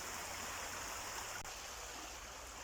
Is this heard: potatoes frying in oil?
no